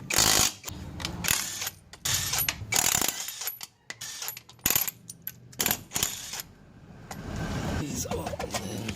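Car wheel being pulled off a vehicle raised on jack stands during brake work, with clanks, metallic clicks and thuds in bursts, close and fairly loud, between stretches of quieter garage ambience.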